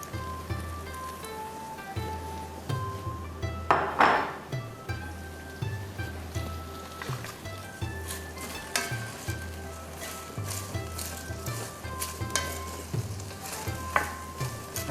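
Steady sizzling of cabbage frying in butter in a deep casserole pot, with occasional clinks and stirring scrapes and a brief louder crackle near the start; no talking.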